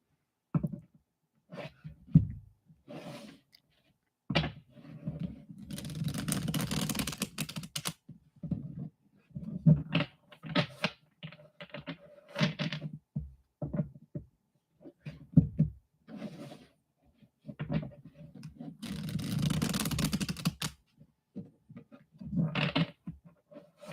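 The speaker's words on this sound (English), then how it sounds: "If you'd like to put your question in the comments, I will start shuffling." A Metanoia tarot deck is shuffled by hand in quick, irregular bursts of crisp card clicks and riffles, close and fairly quiet, with short pauses between bursts.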